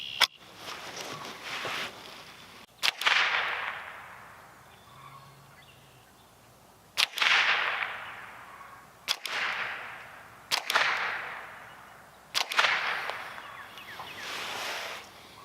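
Rossi RS22 semi-automatic .22 rifle firing about six sharp, cracking shots at irregular intervals, each with a short decaying tail, loud and close with no talking.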